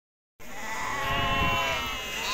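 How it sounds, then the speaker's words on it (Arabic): A sheep bleats at a livestock market, one long wavering cry starting abruptly after a short silence, close and fairly loud, with some background noise beneath it. "خروف تبارك الله هذا البكري"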